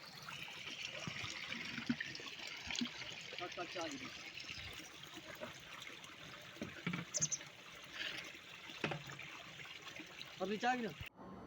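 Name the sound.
water flowing from solar submersible tube well pump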